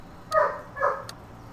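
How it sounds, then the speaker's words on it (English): Dogs barking nearby, two short tonal barks about half a second apart over a low hum, alone with no talking. "Love how my videos get ruined because of fucking dogs."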